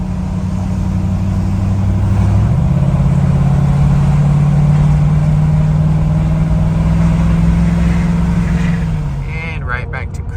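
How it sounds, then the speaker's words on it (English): A tuned 2020 6.7 Powerstroke diesel truck with a 5-inch exhaust accelerates while towing a Big Tex gooseneck dump trailer, its engine drone climbing in pitch then holding steady before easing off, loud from inside the cab. "So let me give you guys a little bit of acceleration."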